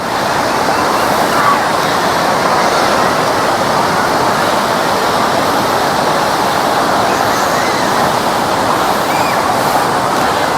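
A river flows past a campsite at Ranca Cangkuang near Bandung, making a steady, loud rushing wash that stays constant throughout with no breaks.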